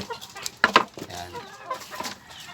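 Hens cluck in short, uneven bursts near a Filipino backyard poultry pen, with a couple of sharper calls standing out among softer murmuring fowl sounds.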